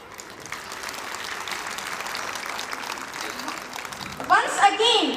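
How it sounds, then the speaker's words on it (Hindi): An audience at a school annual function in a hall breaks into sustained applause to open the evening, even and moderately loud, with a voice starting to speak near the end. "तो आइए तालियों की गड़गड़ाहट के साथ इस शाम की शुरुआत करें।"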